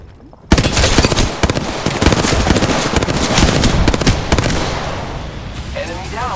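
Rapid automatic gunfire in a shooter video game erupts abruptly and keeps up loud, dense bursts for several seconds before tailing off, with a character voice briefly heard near the end.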